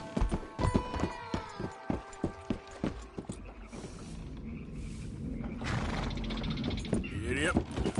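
Hooves clatter in a fast rhythmic clip-clop as a horse gallops in a PS4 video game, followed by rushing movement noise and a whinny-like sound, with a voice talking over it.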